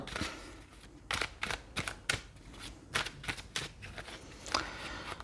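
Tarot cards are spread out across a table for a reading, making a quick series of crisp, soft snaps and slides close to the microphone, with no talking.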